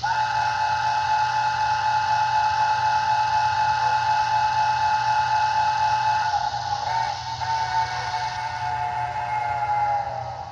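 An MTH Protosound 3.0 model train whistle held in one long, steady, shrill multi-tone blast, sounding continuously at close range with a slight wavering near the end.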